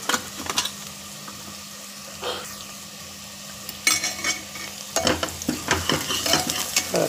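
Onions sautéed pink in a pan with asafoetida and turmeric, giving a close, steady frying sizzle broken by the scrape and clatter of a spoon stirring against the pan, busier toward the end.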